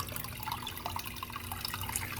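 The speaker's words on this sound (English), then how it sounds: "can't leave it splashing like this" Water splashes and drips steadily inside a coral farm aquarium, a continuous close trickle with no voices over it.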